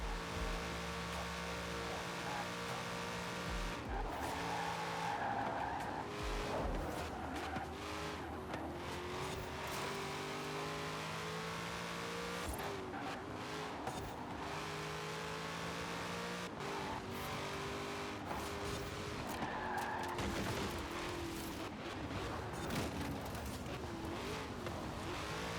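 A Chevrolet racing in Forza Horizon 4, its engine droning and revving up and down through gear changes with bursts of tire squeal on corners, steady and continuous throughout without speech.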